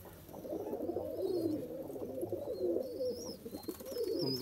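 Pigeons coo in soft, overlapping low murmurs, with a few faint chirps of other birds above, no voices.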